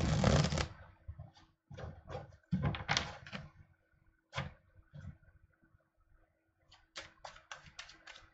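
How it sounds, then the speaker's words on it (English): Tarot cards shuffled by hand in short crisp riffling bursts, separated by brief pauses and light tapping, close and fairly quiet with no talking. "let me shuffle again, and I'm going to draw a card for you"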